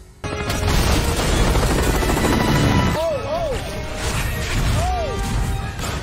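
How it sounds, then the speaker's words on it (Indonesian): Loud chaotic crash and rumble with heavy impacts as a helicopter is hit by a missile and crashes with a damaged rotor, mixing explosive noise and whining mechanical sweeps, with voices shouting underneath. "helikopter mereka terkena rudal dan membuat kolektif baling-balingnya rusak"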